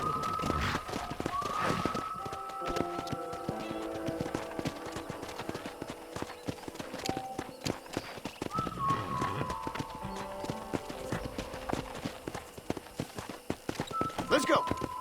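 Horse hooves clip-clop steadily at a riding pace in the game Red Dead Redemption, a continuous close rhythm running under spoken dialogue, with game music and ambience mixed in.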